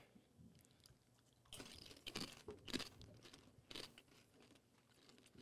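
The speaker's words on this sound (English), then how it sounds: "Yeah, I'm chewing it." Someone chewing a Pepper X chip, quiet at first, then several crunchy bites and chews close to the mic in irregular bursts, no talk.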